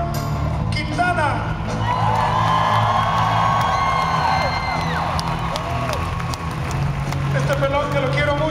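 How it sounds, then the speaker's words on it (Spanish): A live concert crowd at a show in Chicago applauding, cheering and whooping, a dense sustained roar with whistles and shouts rising above it and a voice over a PA mixed in. "un fuerte aplauso"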